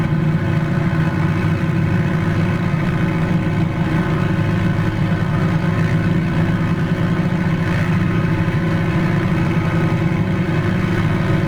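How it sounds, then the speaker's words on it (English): The engine of an Edgley EA-7 Optica ducted-fan light aircraft holds a steady, loud, continuous drone during a ground run-up to 2100 RPM in Microsoft Flight Simulator, with no talking. "So for the run-up itself, we want to come up to 2100 RPM."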